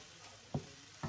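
Fried rice with shrimp, made with frozen rice, being stirred in a pan, with two short scraping, sizzling bursts of spatula contact set against a quiet background.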